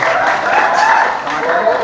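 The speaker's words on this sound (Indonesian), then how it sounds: "Berikan tepuk tangan untuk paslon nomor 1." Audience at a campus student-election debate applauding candidate pair number 1, a dense, steady wash of clapping from a crowd throughout.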